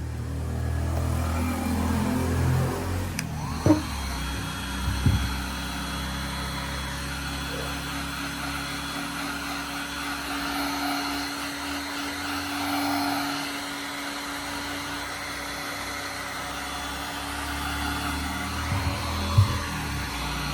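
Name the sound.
heat blower shrinking tubing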